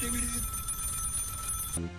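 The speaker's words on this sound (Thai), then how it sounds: "ตัวของเขาจะมาพร้อมกับเสียงโทรศัพท์แบบสมัยก่อน" An old-fashioned telephone rings with a bright, sustained electric trill over a busy background, cutting off abruptly near the end.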